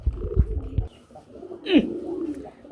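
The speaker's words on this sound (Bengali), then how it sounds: "কবুতরের ডাক দেখতে পাচ্ছেন" At a pigeon farm, a low burbling coo rises and falls, with a brief rustle or flutter early on and a short sharper note midway, close and moderately loud.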